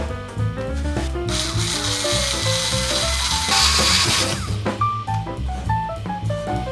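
A steady whirring, grinding rub of a drill boring a 2.5mm pilot hole in wood runs throughout, loud and close, swelling briefly in the middle before easing off.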